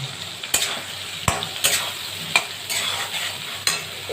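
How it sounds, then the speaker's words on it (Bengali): Cumin-ginger paste and a dry red chili frying with browned potatoes in a pan, a steady sizzle broken by repeated sharp scrapes and stirs of a spatula, close and loud with no talk. "একটু জিরে আদা বাটা আর একটা শুকনো লঙ্কা দিয়েছি।"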